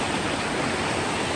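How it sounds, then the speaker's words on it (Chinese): A small stream flows under a little bridge in a US mountain valley, giving a steady, continuous close rush of water with no voices. "哇，小桥流水呀、我特别喜欢"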